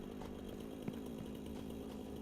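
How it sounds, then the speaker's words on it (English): A chainsaw in the video game Satisfactory drones steadily while felling big trees, a constant buzzing engine tone from start to finish. "let's get ourselves back the chainsaw. Since we are on a war on trees right now"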